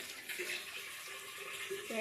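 Water poured into a drumstick and tomato curry, a soft continuous trickle of liquid running into the pot, faint and steady.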